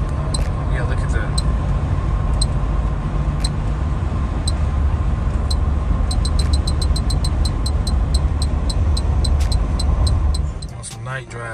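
Steady road roar of a car cruising on the highway at night, a constant low rumble with faint periodic ticking, continuous and close throughout before easing off at the end.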